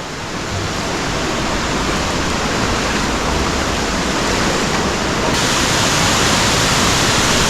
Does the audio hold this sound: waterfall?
yes